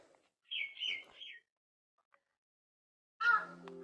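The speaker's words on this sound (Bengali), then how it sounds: "অলরেডি পাখি আসা শুরু করেছে" Birds chirping outdoors on a river island near the Hooghly, two separate bursts of quick high tweets with a quiet pause between them, heard fairly close and with no talk over them.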